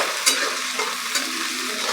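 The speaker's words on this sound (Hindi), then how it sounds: "अब इसको हल्का ब्राउन होने तक अच्छी तरह से भून लेंगे चलाते हुए" Onions frying in a pan for egg curry while being stirred, a close, steady sizzle with scraping stir strokes and no talking.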